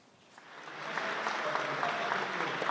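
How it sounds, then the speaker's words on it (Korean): Applause from attendees at a UK–Korea business forum in London greets the South Korean president as he enters, building from scattered clapping to a steady, full ovation without speech. "윤석열 대통령이 참석하고 있는 모습, 참석자들의 박수를 받으면서 지금 입장하고 있습니다"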